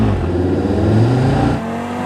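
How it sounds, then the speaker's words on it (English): 2023 Audi RS3's five-cylinder engine revving hard, a loud, close multi-toned growl with strong low harmonics that drops off abruptly near the end as the revs fall away. "People get excited about the 5-cylinder because not only does it feel like there's multiple notes happening at the same time"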